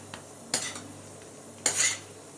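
A spoon stirs ghee in a small kadhai, giving two distinct bursts of metallic scraping against the pan over a quiet, faintly humming background.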